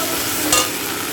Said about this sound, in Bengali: এখন এই যে আদা রসুনের পেস্টটা পুরো দিয়ে দিলাম এবার এটাকে ভালো করে কষাতে হবে